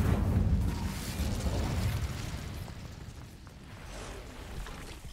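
Fire spell cast in Hogwarts Legacy, a loud whooshing, booming burst of flame at the start that rumbles on and fades into a softer crackling roar.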